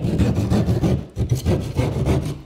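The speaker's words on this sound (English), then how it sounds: "you can use a drywall saw for this, and you can cut the hole bigger than you need" A hand drywall saw cuts a hole in a sheet of drywall, with quick back-and-forth rasping strokes, loud and close, briefly pausing partway through before the sawing resumes.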